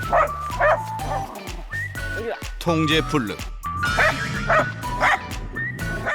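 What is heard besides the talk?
dachshund dogs barking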